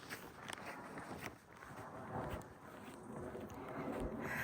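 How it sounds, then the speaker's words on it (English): Wind gusting across an exposed hiking trail, a steady rough rush buffeting the microphone, with faint scuffing sounds mixed in and no talking. "I'm gonna let the wind pass."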